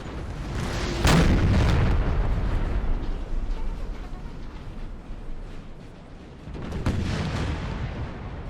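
Eight-pounder artillery in a Napoleon Total War battle booms in two heavy blasts, one early and one late, over a continuous rumble of distant battlefield noise.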